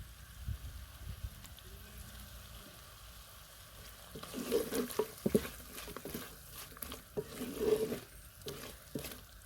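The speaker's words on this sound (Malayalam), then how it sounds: "നമുക്ക് ഇതിനകത്തേക്ക് കുറച്ച് പച്ച വെളിച്ചെണ്ണ ഒഴിച്ചു കൊടുക്കാം." Coconut oil poured over Kerala-style vinegar chicken cooking in a pan on the stove, an ongoing sizzle and stir that swells louder around the middle and again near the end.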